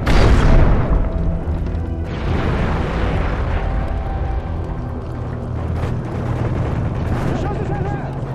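A grenade blast in Modern Warfare 3 team deathmatch on the Resistance map opens loud and booming, then gives way to a sustained rumbling battlefield wash with voices talking over it.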